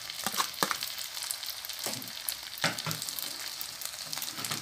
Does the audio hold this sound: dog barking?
no